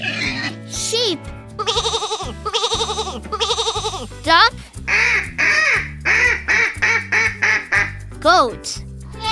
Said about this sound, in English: sheep, duck,